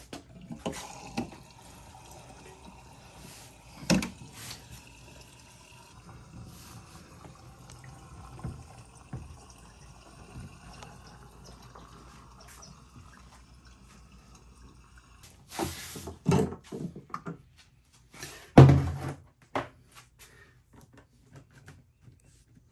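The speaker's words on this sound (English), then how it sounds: "This one should pour so much better." Liquid, roughly a gallon, pours from a container into a car during a home repair, a soft continuous trickle and fill sound with a few louder clunks and handling noises near the end.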